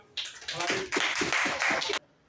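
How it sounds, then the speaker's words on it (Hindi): Loud burst of audience applause at an evening literary program in Jhansi marking Premchand's birth anniversary, dense clapping starting abruptly, swelling in waves for nearly two seconds, then cutting off. "जोरदार तालियां।"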